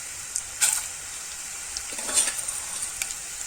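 Crushed garlic and urad dal fry in hot oil for a tempering, giving a soft steady sizzle with a few brief louder crackles and spatters, no voices over it.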